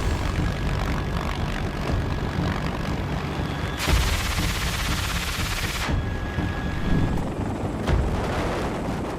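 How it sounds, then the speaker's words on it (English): A Sikorsky CH-53K King Stallion heavy-lift military helicopter flies, giving a steady, loud rotor and engine roar throughout, with a burst of broadband rushing noise partway through. "The Sikorsky CH-53K King Stallion is the latest addition. But what makes this helicopter the king?"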